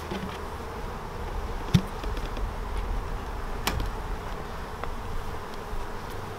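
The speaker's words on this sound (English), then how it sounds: "There's adult bees from side to side." Honey bees buzzing in an opened double nucleus hive, a steady close, dense hum with a couple of brief knocks from handling the frames.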